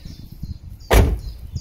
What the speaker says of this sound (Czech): Já zavřu dveře